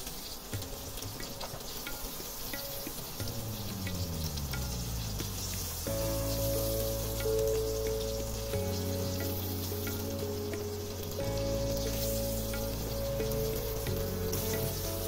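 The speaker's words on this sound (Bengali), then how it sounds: "দুপাশ ভালো করে ভেজে মাছগুলো তুলে নিয়েছি" Hilsa pieces fry in oil with a constant crackling sizzle, while sustained tonal notes, likely background music, run through the second half.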